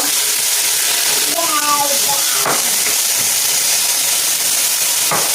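Tomato cooking in a pot for a Jamaican-style steamed fish and vegetable dish, a constant loud hissing sizzle with faint stirring knocks and a brief murmur of voice in the background.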